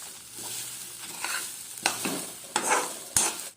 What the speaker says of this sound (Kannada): ಇವಾಗ ನಾವು ಎಲ್ಲ ಫ್ರೈ ಮಾಡಿಟ್ಕೊಂಡದನ್ನು ಪುನಃ ಇದೇ ಬಾಣಲೆಯಲ್ಲಿ ಹಾಕ್ಕೊಂಡು 1 ನಿಮಿಷಗಳ ಕಾಲ